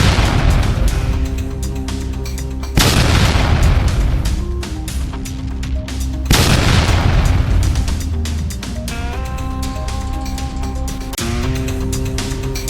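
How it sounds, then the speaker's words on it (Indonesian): Explosions and interceptor missiles over Erbil, Iraq: three heavy booms a few seconds apart, each a loud broadband blast followed by rumbling and crackling decay, with distant tonal hums in between. "Ledakan dan cahaya rudal pencegat menerangi langit Erbil, Irak"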